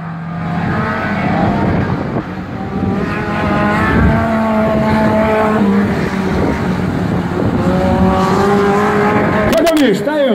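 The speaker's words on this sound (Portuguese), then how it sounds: "Thiago Bezerra, carro número 18" Race cars in the light class competing at speed on a dirt track, their engines droning and shifting pitch continuously throughout, mixed with crowd noise and an announcer talking over it.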